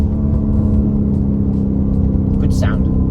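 Lamborghini Urus, a 641 hp large SUV, with its engine running loud and steady, a low continuous rumble that swells slightly throughout, with a voice talking briefly over it.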